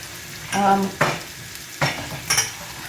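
Potato samosa filling sizzling in a pan, a quiet frying hiss broken by a few bursts of stirring and scraping, roughly four distinct strokes over a low background.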